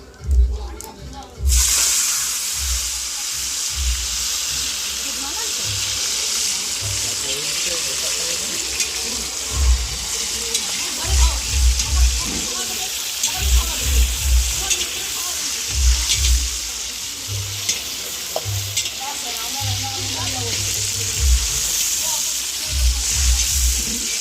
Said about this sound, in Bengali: মশলা নাড়তেছে আর আমি একে একে দিয়ে দিচ্ছি